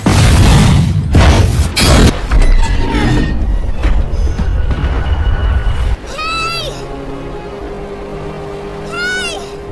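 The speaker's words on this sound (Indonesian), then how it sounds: "setelah kapal kren meledak dan terbakar" A ship explodes in a film scene, a heavy boom rumbling amid loud dramatic movie audio, followed by quieter sound with sweeping tonal effects.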